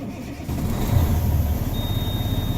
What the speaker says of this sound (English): Then now I'll start the engine.